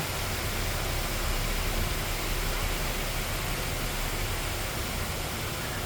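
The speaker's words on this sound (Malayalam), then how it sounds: "വെള്ളച്ചാട്ടത്തിന്റെ സൗണ്ട്" A waterfall roars as a dense, constant rush of falling water, loud and close, with no break and no talking over it.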